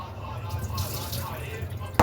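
Cold tap water runs steadily from a faucet while things are washed by hand, with small drips and splashes in a continuous close wash and a brief louder clatter at the end.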